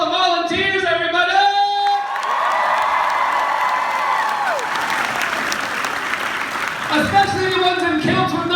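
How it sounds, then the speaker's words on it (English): Crowd at a fan day event applauds and cheers loudly for signers and volunteers, dense clapping with whoops rising after a spoken introduction and fading as voices return at the end. "Big round of applause for our signers, by the way."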